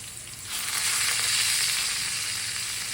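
Potatoes searing flesh-side down to a golden brown in a pan, a loud, steady broadband sizzle that swells after the first half second and holds close and continuous.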